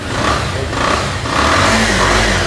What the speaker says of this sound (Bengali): সাউন্ডটা দেখেন ভাই তাই একদম স্মুথ সাউন্ড একদম ইঞ্জিন